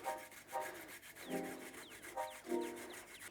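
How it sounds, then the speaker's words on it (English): Fresh ginger rubbed against a grater for a pork marinade, a close scraping rasp repeated in four or five short strokes with brief pauses between them. "To marinate the pork, we'll just grate a little ginger."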